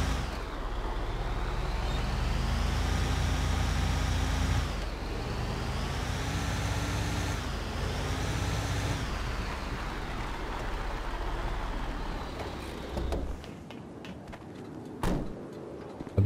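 Fuel truck driving in the FiveM video game, a steady loud engine drone with rising and falling pitch as it shifts, then fading out near the end with a couple of sharp knocks.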